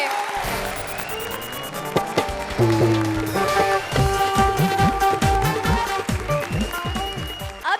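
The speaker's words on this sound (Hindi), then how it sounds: "जोरदार तालियां हो जाए इनके लिए" A studio audience at the Comedy Circus comedy show claps loudly and continuously, mixed with playing music, building to fuller applause midway and holding to the end.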